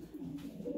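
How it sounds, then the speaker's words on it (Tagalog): Racing pigeons cooing at the loft after returning from a 360 km race, a soft, close, low rolling coo that runs steadily through the short moment with no other sounds. "Yung tatlong ibon na dumating sa atin"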